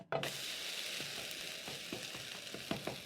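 A carrot crepe sizzling in a pan right after flipping: an abrupt thump, then a continuous close frying hiss with a few light scrapes and taps, no voices.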